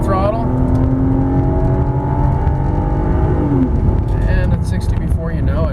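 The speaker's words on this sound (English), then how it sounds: "See how fast we can get from 0 to 60." A 2011 Volvo XC60 front-wheel-drive SUV accelerating hard from a standstill toward 60 mph up an incline, with a steady loud engine drone and rising whir, heard from inside the cabin.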